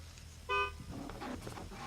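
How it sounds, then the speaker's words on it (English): A single loud car horn honk marks the start of a qualifying run at CPR, a steady sustained blast of about a quarter second, followed by low engine rumble and general ambient noise. "there's the horn"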